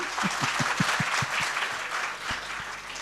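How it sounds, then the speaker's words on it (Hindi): Audience at a Hindi speech by a spiritual leader claps together in a steady, moderately loud round of applause with some sharp individual claps standing out, with no talk over it. "मेरी बात अगर अच्छी लग रही हो तो उसको मेरा थोड़ा तालियों से नवाज दे करो"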